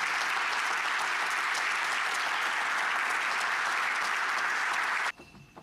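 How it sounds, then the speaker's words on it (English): Sustained audience applause at a Berlin keynote on tech fixes, a dense even wash of many hands clapping for about five seconds before cutting off abruptly. "Maybe another applause for Paris for this amazing talk"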